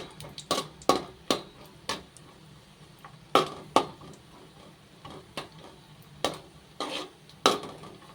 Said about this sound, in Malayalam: ഇനി നമുക്ക് നമ്മൾ കട്ട് ചെയ്ത് വെച്ചിരിക്കുന്ന അണ്ടിപ്പരിപ്പ് ഒന്ന് ഇട്ട് കൊടുക്കാവേ. അതൊന്ന് മൂത്ത് വരട്ടെ.